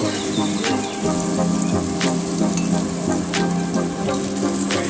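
Pieces of paneer fry in a pan of hot oil with a loud, constant sizzle and bubbling, broken now and then by faint sharp pops.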